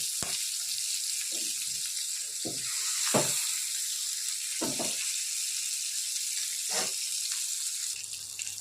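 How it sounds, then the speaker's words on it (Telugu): Fish frying in hot oil, a steady loud sizzle with a constant hiss throughout and several sharp spattering pops scattered over the sizzle, no talking. "మనం ఏం ఫిష్ ఫ్రై చేసామంటే మొత్తం చిందులు పడతాయండి"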